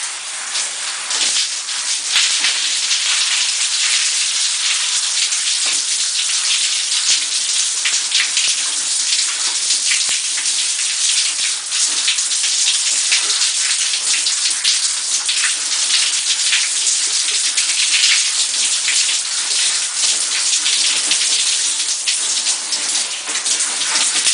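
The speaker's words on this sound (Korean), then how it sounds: "따라서 따뜻한 물로 헹궈 주셔야 합니다" Warm water runs continuously over hair and scalp while a shampoo is rinsed out, giving a steady, close, even hiss with no voices.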